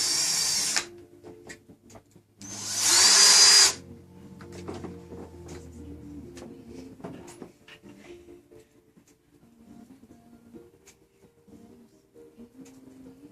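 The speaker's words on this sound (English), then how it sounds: "I'm just using this drill bit to deburr the hole." A small drill bit deburrs a hole in jewelry material, giving two short bursts of high whirring, the second longer, followed by quiet clicks and handling noises on a workbench.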